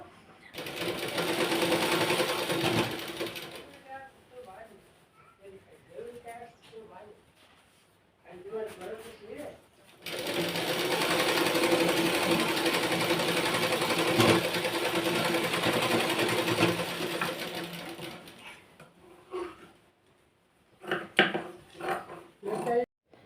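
A sewing machine finishes a blouse, its close, steady whirring stitching running in two long stretches with several shorter bursts, while someone speaks in the pauses between runs.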